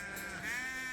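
Ewes bleat in a steady, wavering cry while being herded in from a field for the night, the call close and fairly loud across the whole moment.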